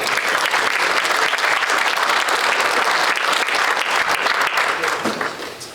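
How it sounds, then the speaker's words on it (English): An audience at a regional chamber evening event in Canfield claps in a full, sustained round of applause, loud and dense for several seconds before beginning to taper off at the end. "let's give a round of applause"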